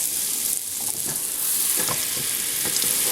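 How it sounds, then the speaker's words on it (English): Butter melts and sizzles in a pan for a Cajun chicken pasta sauce, a close, steady frying hiss with occasional soft stirring scrapes and light pops. "go ahead and let your butter melt"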